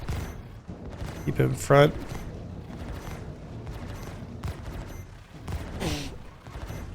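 Ship turrets firing in Star Citizen during a Corsair versus Redeemer fight, rapid bursts of energetic weapon blasts with booming impacts, continuous and fairly loud, with people talking over them.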